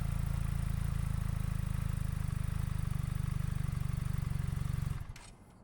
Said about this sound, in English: Now, I'm going to actually drop the bike.